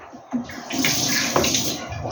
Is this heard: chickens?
no